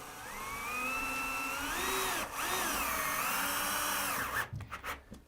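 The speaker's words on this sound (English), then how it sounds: "just take a screw and screw this in place temporarily" A power drill whines loudly and steadily as it drives a screw to hold a track in place temporarily, its pitch dipping briefly mid-run before a few short trailing bursts as it stops.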